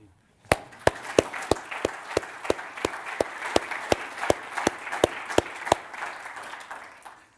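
Applause from an audience at an academic award presentation: a dense wash of clapping that swells and sustains for several seconds, with a few sharp, regular loud claps standing out above the crowd.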